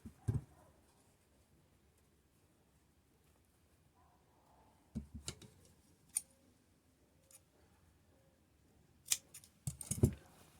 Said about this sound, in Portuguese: E vou dar um pique aqui para poder desvirar a peça.